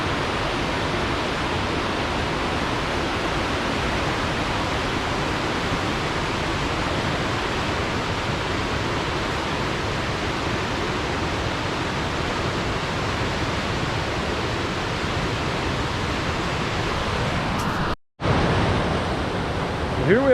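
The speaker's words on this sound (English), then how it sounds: "Here's the brook that comes down from Belvedere. It's really going." A flooded brook rushing down from Belvedere in northern Vermont, a loud steady roar of fast high water that stays constant throughout, briefly cut by a short dropout near the end.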